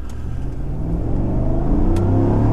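A 2015 Chevy Tahoe or Suburban SUV engine revs hard under full throttle, its pitch climbing steadily as the vehicle accelerates from 0 to 60 mph, close and loud.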